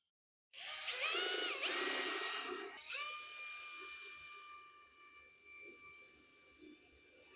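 A drill bores into metal close by in a loud whining burst that changes pitch, then winds down into a fading high tone.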